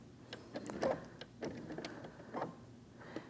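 Ellis sewing machine with a walking foot drawing up the bobbin thread, a quiet series of small mechanical clicks and ticks at close range, irregular over a few seconds.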